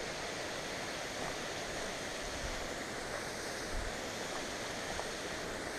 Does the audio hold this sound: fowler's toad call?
no